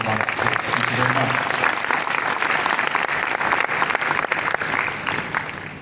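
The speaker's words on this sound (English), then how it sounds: "can we please give each of them a round of applause?" A large conference audience of delegates claps for the speakers, loud and dense, with sustained applause filling the hall and faint voices mixed in beneath.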